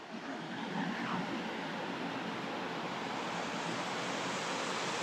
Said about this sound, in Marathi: वाव हा वॉटरफॉल बघू शकता किती सुंदर आहे